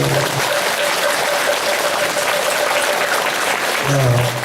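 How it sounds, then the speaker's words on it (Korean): An audience at a Buddhist temple sermon claps together in steady, dense applause that fills the whole stretch, with a low murmur of voices at the start and end. "다 같이 손박수."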